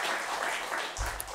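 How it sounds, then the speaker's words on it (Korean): A church congregation at a Wednesday worship service breaks into brief applause, a short burst of dense clapping heard up close. "박수 한번 하십시다."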